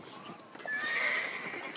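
A horse whinnies loudly in a stable area of the video game Red Dead Redemption, a rising, wavering neigh over soft clip-clopping hooves and light ambient clatter.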